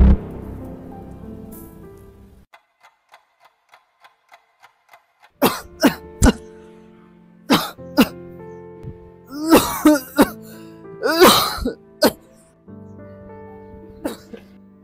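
Several harsh coughs burst out close by, scattered amid household noise and bits of talk.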